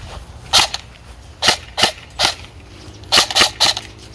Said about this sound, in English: I'm gonna use it mostly on semi. So let's do a little walk and shoot.